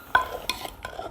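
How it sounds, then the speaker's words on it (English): Tomato being pounded in a mortar for Lao papaya salad with padaek, three soft wet thuds with a faint squelch, close and spaced about a third of a second apart, with no talk. "I'm just crushing the tomato to release the flavor in the juice"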